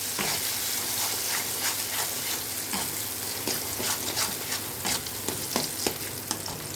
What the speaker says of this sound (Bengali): এবার এটাকে নাড়তে হবে।